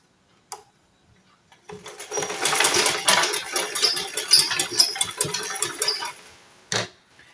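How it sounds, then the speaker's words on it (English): Rapid mechanical stitching of a sewing machine, running in bursts for several seconds with a few clicks before and after. "Put it on the sewing machine and sew it like this."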